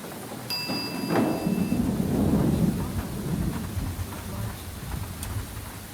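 Rain with rumbling thunder in a shawarma kiosk video game, a steady wash of rainfall under a broad low roll of thunder that swells and fades, with a couple of brief electronic dings near the start.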